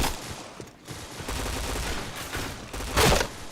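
Rapid bursts of gunfire from the online shooter game Point Blank, a steady stream of shots building to a louder, denser volley near the end, with no talk.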